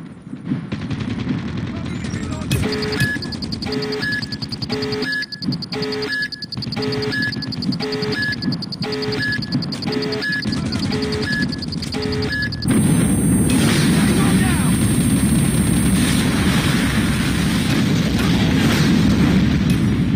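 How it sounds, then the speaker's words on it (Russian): A nuclear bomb detonates in Call of Duty Mobile, with a loud, continuous rumbling roar that fills the second half, preceded by a stretch of dense game gunfire and repeating electronic alert beeps. "активировать ту самую ядерную бомбу, действие которой вы сейчас можете наблюдать у себя на экранах"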